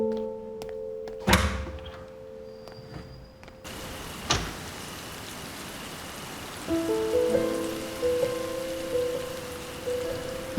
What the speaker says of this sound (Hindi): बारिश दोबारा से शुरू हो गई है।